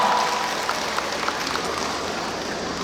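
Outdoor audience applause at a choir festival's opening ceremony in an open-air music hall in Suwon, a steady wash of many hands clapping that fades slightly toward the end.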